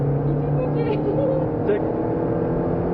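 Peugeot 206 S16 engine under acceleration on the Clastres track, a steady loud droning hum heard from inside the car, with a person talking over it.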